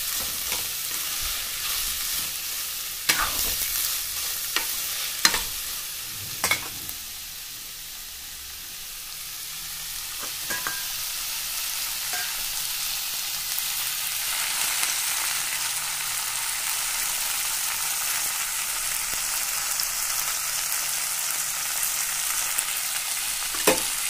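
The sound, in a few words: capsicum frying in oil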